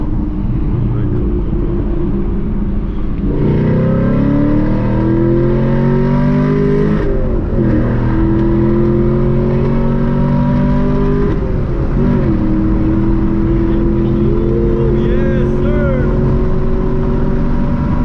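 A 500+ hp Chevrolet Camaro SS with a manual clutch accelerates hard at full throttle, its engine note climbing loudly through repeated rising sweeps between gear changes, heard up close from inside the car.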